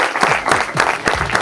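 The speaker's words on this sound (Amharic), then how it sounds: "ለዚህ ህፃን ልጅ አጨብጭቡለት" An audience at a youth summer training camp claps for a child, a short burst of dense, even applause from a nearby crowd.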